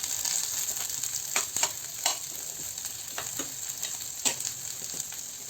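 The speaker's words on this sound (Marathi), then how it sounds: "हे कांदे आपण आता परतून घेऊया" Onions, garlic and ginger fry in hot oil, a constant close sizzle with occasional louder crackles and stirring scrapes, no voices over it.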